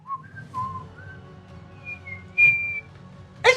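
A spinning whistle sounds in a series of short, pure whistled tones that rise and fall, with a longer, louder sustained whistle near the end over a low background rumble. No one speaks.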